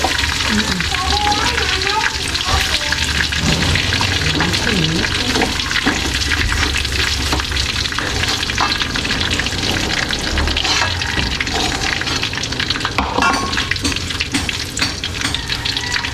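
Chicken curry frying in a pan, a steady loud sizzle with stirring and scraping throughout, some faint background voice.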